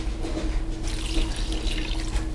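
Clam juice drained from canned clams pours in a steady, close liquid splash and trickle for a couple of seconds, with no talking.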